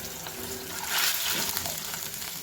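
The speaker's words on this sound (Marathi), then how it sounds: "आता याच्यामध्ये मी पाणी घालते आहे साधारण दोन वाट्या पाणी घालतीये आहे" About two bowls of water poured into a pan of sautéed onions, a steady close rushing gush that swells briefly in the middle before settling.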